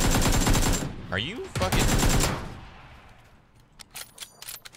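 AKM assault rifle in PUBG on the Sanhok map firing two dense, rapid automatic bursts close up, followed by scattered quieter shots trailing off, while someone talks over the first burst.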